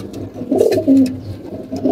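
Pigeons coo in low, rounded bursts close by at a loft, several overlapping calls rising and falling over two seconds with no talk.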